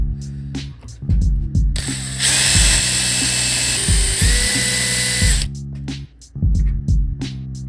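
A drill pre-drilling a metal U-joint for classic Mini rear electric windows: a loud high whine that runs for several seconds and shifts pitch partway through, framed by clunks and ratcheting clicks of handled tools, close up.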